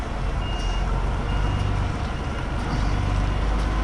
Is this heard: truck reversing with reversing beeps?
yes